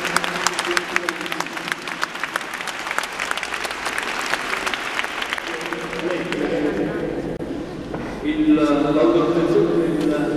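Audience applause at a ceremony in Somma Vesuviana with a fire brigade band present: dense clapping fills the first six seconds, then thins as a voice speaks over the fading claps.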